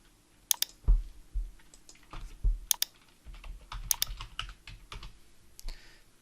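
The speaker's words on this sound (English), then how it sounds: "you can see as I was typing there" Rapid keyboard typing in bursts of clicks and key taps, close up, with brief pauses between runs of keystrokes and no talking.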